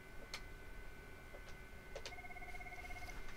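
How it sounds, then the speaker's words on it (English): Two Cisco IP desk phones ringing together in a home CallManager Express setup, electronic ring tones sounding as steady tonal pulses over a low background hum, no talking. "Yep, both phones are going off."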